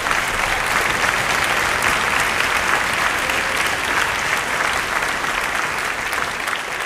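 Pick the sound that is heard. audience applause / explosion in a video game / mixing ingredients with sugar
audience applause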